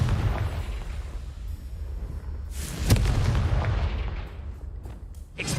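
Fiery blast explosions from the Confringo spell in Hogwarts Legacy, a deep rumbling boom with a sharp burst near the middle and several smaller crackling pops after, loud against a low roaring background.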